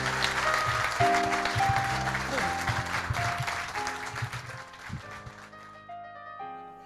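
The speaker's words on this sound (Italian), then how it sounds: "Magari da parte vostra adesso vi facciamo un grande applauso." Audience applause at a bonsai demonstration by Masahiko Kimura, a continuous clapping wash under sustained musical tones, thinning toward the end as the music carries on.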